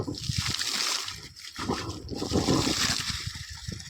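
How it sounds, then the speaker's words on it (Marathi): Rain and hail fall during unseasonal weather at wheat harvest, a loud near splashing and pattering in uneven surges, with brief dips between bursts. "पाणी सुरू झालं रे, गारा पडतात वाटायले रे"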